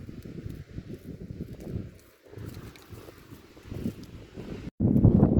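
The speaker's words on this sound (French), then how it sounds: "Alors on a un peu de vent là" Wind blowing outdoors, gusty rumbling buffets against the microphone that swell and drop unevenly, ending in a sudden louder gust.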